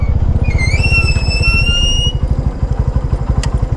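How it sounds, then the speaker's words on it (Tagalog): A motorcycle's brakes let out a high, tonal squeal lasting under two seconds over the close, loud, pulsing putter of its engine, which keeps running steadily after the squeal stops. "Ang ingay ng preno ko ah."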